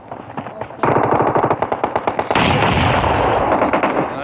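Gunfire in a video game: a rapid burst of automatic shots lasting a couple of seconds, loud and close, then heavier dense firing or explosions. A voice is faintly present under the shots.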